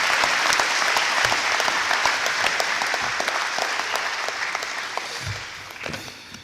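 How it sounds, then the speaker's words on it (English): An audience at a fourth grade celebration applauds a graduating class, a dense, steady clapping that fills the room and tapers off slightly toward the end, with no one speaking over it. "Let's give them a round of applause."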